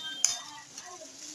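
Mini bondas being lifted out of a frying pan: a single sharp metallic clink of a utensil against the pan, followed by soft sizzling oil, brief and close.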